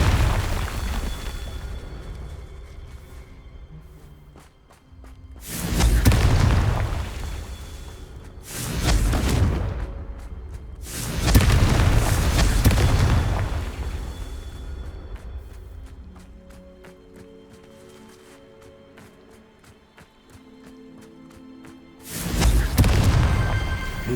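Confringo spell explosions in the video game Hogwarts Legacy, several loud booming bursts spread across the stretch, each a broad blast with a fading tail, separated by quieter ambient game sound.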